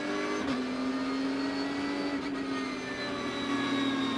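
A Porsche Carrera Cup race car at Assen cruises back toward the pit lane at reduced pace, a steady droning engine tone with slight rising pitch, heard from onboard, continuous and loud, with no talk.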